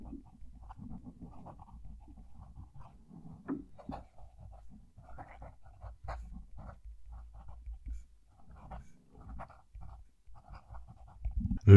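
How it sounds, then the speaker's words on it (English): A soft-nib pen scratches across paper in steady, close, continuous strokes with small pauses between words, a dry scraping texture throughout. "You can really hear it writing."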